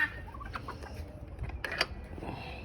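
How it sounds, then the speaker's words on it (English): Blue slate and Eastern wild heritage turkeys give a few soft, scattered clucks and calls, faint and close against a quiet outdoor background. "These are turkeys, blue slates and Eastern wild heritage turkeys."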